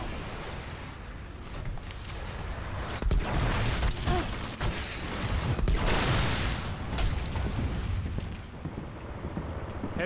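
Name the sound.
turret firing in the video game Destiny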